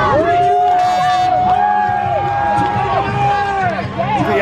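A crowd at a Sofas and Suds couch racing event in Sanford, Florida, a loud roar of cheering and shouting with a commentator talking over it throughout.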